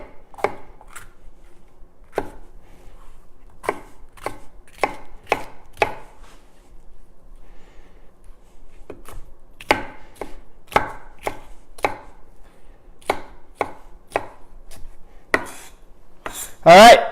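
A kitchen knife chops peppers on a cutting board in crisp, close, rhythmic taps, with bursts of quick strokes separated by short pauses.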